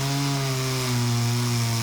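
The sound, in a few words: chainsaws cutting storm-felled trees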